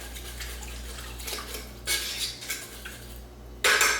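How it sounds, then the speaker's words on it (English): A spoon stirs cumin and other spices into food in a pot during meal prep, giving soft scraping and clinking against the metal in a few bursts, with a low steady hum underneath. "I'm just gonna stir this all around."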